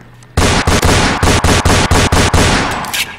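Rapid gunfire in the Roblox Fortnite video game: about ten loud, sharp shots in quick, even succession, each a broadband crack, closely spaced and sustained for nearly three seconds before trailing off.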